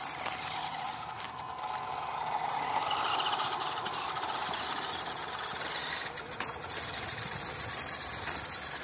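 D12 engine running at high throttle while hauling a load of gravel, a continuous mid-pitched mechanical drone with a slight swell in the middle, heard alone and fairly close.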